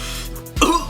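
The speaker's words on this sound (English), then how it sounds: "I'm coughing out my lungs" A single short, harsh cough after inhaling weed bursts out close to the microphone, brief and loud, with no speech.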